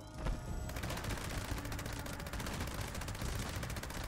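A Gauss minigun in Fallout 76 fires at a super mutant in a long unbroken stream of rapid, loud shots that blur into a dense, continuous roar.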